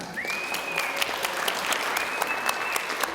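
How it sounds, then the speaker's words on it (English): An audience at the Miss Indian UNM pageant applauds for assistant Katrina, a steady, moderately distant patter of many hands with a few sharper claps and a high whistle cutting through. "Let's give Katrina a round of applause."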